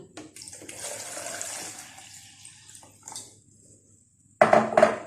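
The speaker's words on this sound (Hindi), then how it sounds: "अब हम इसके अंदर ऐड करेंगे पानी" Water poured into a jar holding cut peaches while making fresh peach juice, a steady splashing stream that tapers off and then returns briefly in a louder burst at the end.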